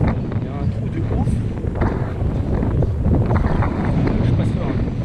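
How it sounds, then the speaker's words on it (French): Wind gusting over a swaying suspension footbridge at the Monteynard trail race, a steady loud roar of wind buffeting the microphone throughout, with faint voices mixed in. "il y a du vent, ça bouge"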